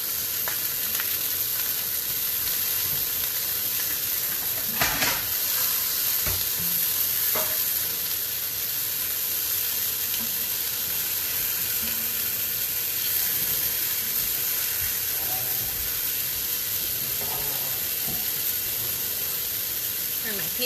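Chili lime pork frying in a pan, a steady loud sizzle and hiss with a few clatters as the pieces are turned, and a voice talking now and then over the cooking.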